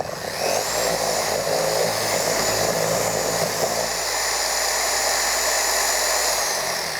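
Pad washer spinning a damp polishing pad for a Liquid Elements entry-level polisher, a loud steady whirring drone that holds constant throughout with no talking.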